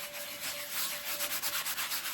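Bacon grease being rubbed by hand onto a ribeye steak, working into the edges and sides, a soft close-up rubbing with quick repeated strokes, quiet and alone.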